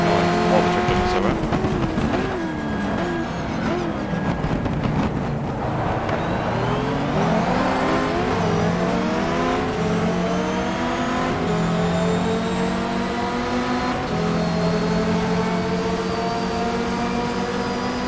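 Race cars in the racing game GTR 2, including a Corvette, roar close by with rising and falling engine revs and gear shifts as they accelerate and pass.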